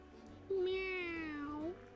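A cat meows once in the SpongeBob Battle for Bikini Bottom video game. It is a long, drawn-out call that bends in pitch, heard over a faint, steady game background.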